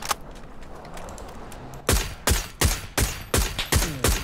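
Distant gunfire in the PUBG battle royale game: a sharp lone shot, then a regular string of six or seven cracks spaced about half a second apart, each trailing off, with no talk.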